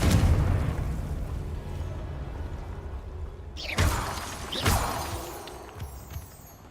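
Confringo fire spell blasts in a wizarding video game, two sharp explosive bursts a second apart that decay into rumbling debris after a dense roiling buildup of noise.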